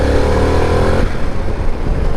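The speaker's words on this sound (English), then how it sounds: "The sound of the engine is taking some getting used to." A 2024 Harley-Davidson Pan America 1250 Special motorcycle engine runs loud and close on a ride, a steady droning rumble that breaks into a rougher, choppier note partway through.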